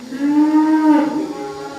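A single long moo from a cow on a well-kept cattle farm, loud and close, rising and then falling over about a second and a half with no other voices.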